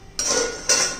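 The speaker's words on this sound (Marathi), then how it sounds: "तर हे पहा, आता झाकण काढूया." Metal lid lifted off a pot of simmering cauliflower curry: two close, bright clinks of metal on metal, each followed by a short ringing decay.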